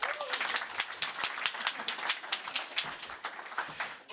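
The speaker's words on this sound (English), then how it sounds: "One big round of applause, please" Applause from a conference audience, a moderate crowd clapping with distinct individual claps audible throughout, fairly close and steady.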